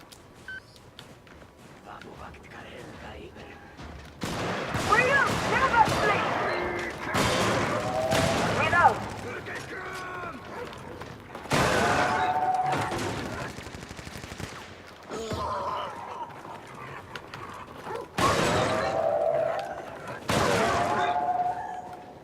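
An automated turret in a video game fires repeated bursts of rapid gunfire in several loud clusters separated by short pauses, with a voice talking over parts of it.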